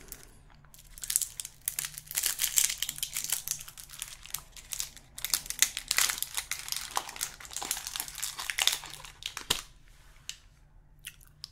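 Foil wrapper around a chocolate bar being crinkled and crumpled up close, in repeated bursts of bright rustling with quieter pauses between handlings, in a soft, calm setting.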